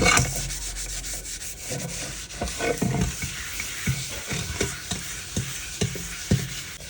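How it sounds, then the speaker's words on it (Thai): Sponge scrubbing a dull, tarnished old stainless steel pot, with a run of rhythmic rubbing strokes that grow more regular as it goes on, close and clear with no talking. "เราก็ถูให้ทั่วๆเลย"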